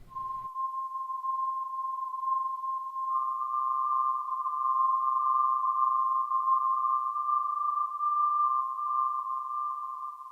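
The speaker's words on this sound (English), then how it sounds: "Next is the sound generated by the image of a tree that I just simply dropped into my sample player." A steady, pure electronic tone synthesized from an image of a tree holds a single pitch for about ten seconds, with a second close tone joining partway to create a slow wavering beat.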